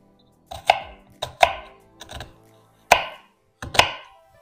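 Knife chopping an onion thin on a cutting board for spaghetti sauce, five or six close, crisp thuds in an irregular rhythm, with no voices.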